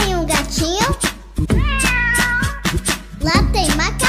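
Meows in a Portuguese-language children's song about yard animals, several sung cat-like cries rising and falling over musical backing, loud and close, with childlike singing mixed in; a voice imitates the cat.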